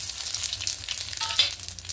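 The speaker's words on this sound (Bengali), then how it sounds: "এই তেলের মধ্যে সামান্য একটু ঘি দেব। রাঁধুনি আর সর্ষে ফোড়ন দেবো।" Radhuni and mustard seeds with a little ghee crackle and sizzle in hot oil, a busy close hiss with tiny pops and one brief metallic clink near the middle.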